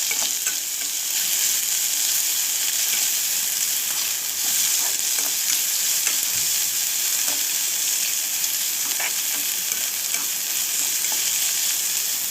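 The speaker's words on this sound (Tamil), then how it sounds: "வெங்காயம் போடுறேன், ஒரு பெரிய வெங்காயம்." One large chopped onion fries in a pan, giving a loud, continuous sizzle of hot oil that holds steady throughout, with scattered light scrapes and clinks as it is stirred.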